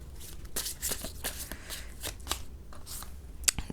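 A deck of tarot cards is shuffled by hand in quick riffling bursts, a rapid series of crisp, close flutters and snaps with no talking.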